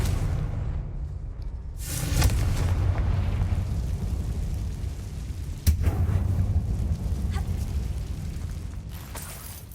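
A Confringo spell explosion in the video game Hogwarts Legacy inside a closed mine, a sudden booming burst with whooshing roar that rumbles on, followed by a second sharp blast later, loud and close.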